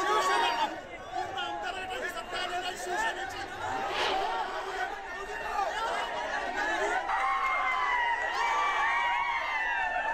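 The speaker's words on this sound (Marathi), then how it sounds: "तर कोल्हापुरातल्या कार्यकर्त्यांचा जल्लोष, आपलं पॅनल जिंकल्यानंतर" Party workers in Kolhapur celebrate a panel win, a dense crowd cheering and chattering steadily at a moderate distance, with voices overlapping throughout.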